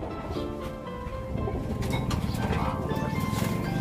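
Racing pigeons cooing in a coop, low soft coos repeating steadily and growing fuller, with a busy rustling background close by.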